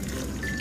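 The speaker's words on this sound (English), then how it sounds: "And we're going to add 1 cup of warm water." Warm water poured into a bowl for bread dough makes a brief, soft trickling splash, steady and close for under a second.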